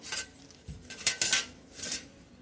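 Brass kitchen utensils from a brass shop being handled, giving a few close metallic clinks and clatters in short bursts against a quiet room, with no talking.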